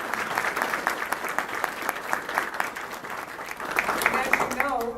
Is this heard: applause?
yes